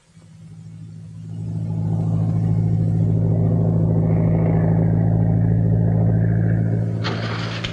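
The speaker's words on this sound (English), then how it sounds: "I'll make enough noise so they won't hear the motor start" A motor engine starts with a low rumble that swells into a steady, loud idle, with a brief higher rattle near the end.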